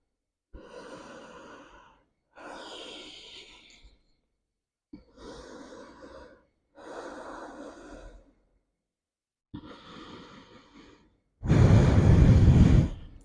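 Slow, deep breaths during a yoga session: several separate airy inhales and exhales with pauses between them, the last one much louder and closer.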